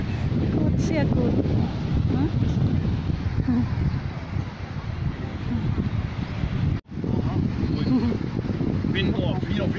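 Cold wind at the seaside buffets the microphone in a constant low roar and rumble throughout, with a person speaking over it.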